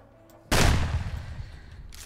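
A single heavy shotgun blast in the zombie survival game Project Zomboid, loud and close, with a booming report that fades out over about a second and a half.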